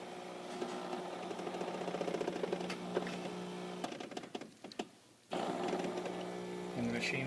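A Miele coffee machine grinds coffee beans with a steady mechanical whirr and rattling buzz, fairly quiet, briefly dipping near the end before resuming.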